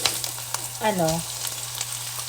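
Corned beef sautéing in a pan, a soft frying sizzle with light scraping, close and fairly quiet, over a steady low hum and a brief rising squeak.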